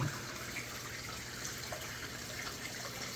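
Water runs steadily in a small backyard creek within a regenerative ecosystem build, a continuous close babbling and trickling wash with no talking.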